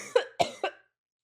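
Three quick, close coughs in a rapid burst, each sharp and harsh, followed by silence.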